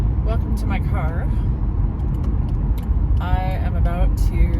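Steady low road rumble fills a car cabin while driving toward a highway, a continuous engine and tyre drone that runs beneath close, clear speech.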